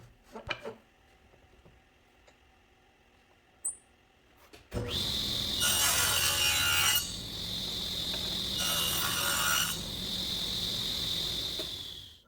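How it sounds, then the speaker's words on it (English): A table saw cuts a groove into a wooden frame piece for a display case, starting after a few light handling knocks and running loud and steady with two rising bursts as the blade bites into the wood, close by and alone. "I'm going to set the table saw to cut the groove for the acrylic panel"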